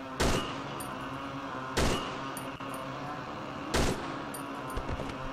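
Sharp gunshots crack out at intervals over a steady background of game noise in the video game Cry of Fear, a few single loud bursts spaced about two seconds apart.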